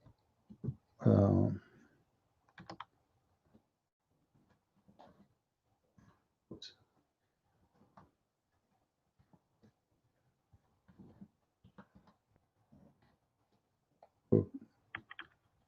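Computer keyboard typing in scattered bursts of clicks, fairly close, with pauses between keystroke runs and occasional louder thumps, while someone talks intermittently.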